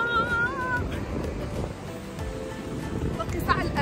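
Sea waves wash and rumble steadily at the seaside, with wind noise and a voice heard over the surf.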